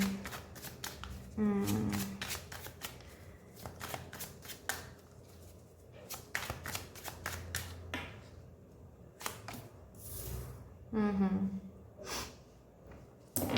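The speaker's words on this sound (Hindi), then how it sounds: "मैं कार्ड्स पहले निकालूंगी, उसके बाद मैं आप लोगों को अच्छे से समझाऊंगी" Tarot cards being shuffled and drawn by hand, with a few quick riffling bursts and scattered soft flicks and taps between them, close and fairly quiet, with breathing and occasional speech mixed in.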